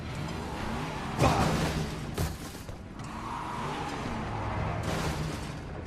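Car engine driving in the Resident Evil 7 Biohazard game, a fluctuating motor drone with a few sharp bursts and whooshes, moderately faint.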